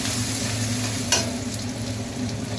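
Ginger paste fries in a pan for potato curry with a steady sizzle and scraping stir strokes, one sharper clink partway through, over a low hum from a running kitchen chimney, and nobody speaks.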